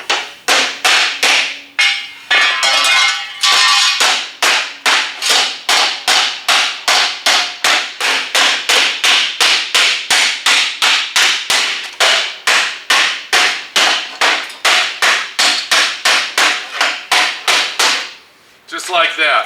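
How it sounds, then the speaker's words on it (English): Rapid, steady metal-on-metal hammer-and-dolly work on a junkyard car's body panel, dozens of loud ringing blows in an even rhythm with a brief pause near the end. "I'm going to take my hammer and a dolly, and I'm going to go ahead and try to hammer and dolly"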